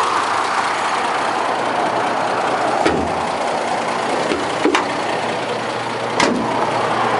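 A 1969 Mercedes six-cylinder car engine idles steadily nearby, a low even hum with a few brief clicks and knocks over it, no talking.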